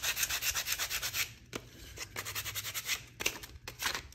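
Fine-grit sandpaper rubs back and forth across a painted vintage wood sled in quick, steady strokes, close and fairly quiet, with a few brief pauses.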